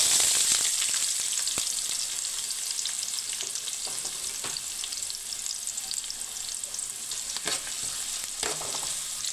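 Onions frying in hot oil with star anise, cinnamon, cloves and cardamom for tomato rice: a loud, continuous crackling sizzle with occasional spatula scrapes and taps against the pan.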